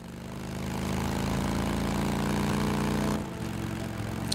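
A motorcycle engine in the video game Days Gone holds a steady, droning hum at a constant pitch, then drops abruptly to a lower rumble as the throttle eases.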